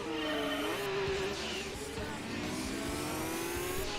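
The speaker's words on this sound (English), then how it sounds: "Definitely has that stereotype old GTR sound from the older Gran Turismo games." An old GTR race car engine in Gran Turismo 2 revs hard and continuously, its pitch climbing and dropping through gear shifts, loud and close with no talk.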